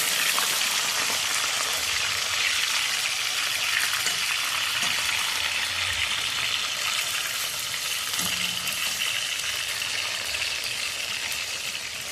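Salted chicken pieces fry in hot oil in a home kitchen, a dense continuous sizzle close by, with occasional soft scrapes of stirring underneath and no talking.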